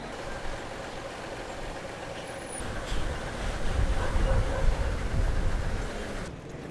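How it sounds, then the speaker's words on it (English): Damaged heavy trucks rumble past nearby while driving off a ferry, engines swelling louder then easing off, with a low droning roar and faint background clatter. "the damaged trucks are already moving off the boat"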